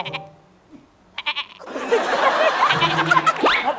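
A person mimics a baby goat's bleat with a rising, wavering voice, following short vocal sounds and set against a noisy room with laughter and chatter from a talk-show group.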